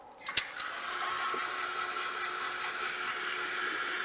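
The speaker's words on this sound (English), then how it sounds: "So I'm going to dry that with my heat gun." Heat gun blowing steadily over glued quilled paper, a constant airy whoosh that starts after a brief click and holds evenly at moderate volume.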